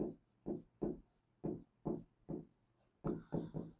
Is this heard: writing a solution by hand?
yes